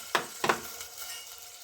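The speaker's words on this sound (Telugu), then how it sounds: "ఇప్పుడు వేగుతున్నాయి కదా పెసరపప్పు. వేగేటప్పుడు కొంచెం నెయ్యిలో వేగితేనే బాగుంటాయి." Moong dal fries in ghee with a low, soft sizzle, broken by two quick spoon scrapes or clinks against the pan near the start, faint and close.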